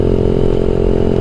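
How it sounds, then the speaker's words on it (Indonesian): Yamaha MX King 150 motorcycle with a Rob1 TGA aftermarket exhaust and a fully standard engine, idling loudly close up in a steady, throbbing low rumble with no talk. "bagaimana suara knalpot Rob One TGA e-making yang dipasangkan ke e-making dengan mesin spek full standar ya"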